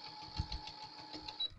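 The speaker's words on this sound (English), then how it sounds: "So now I am sewing them together with about a half an inch." A sewing machine stitching quilt squares together with a half-inch seam, a quiet rapid mechanical whir with a steady hum, close and faint.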